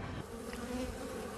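Honey bees buzz steadily around a hive used for environmental biomonitoring, a dense, continuous hum with no voices.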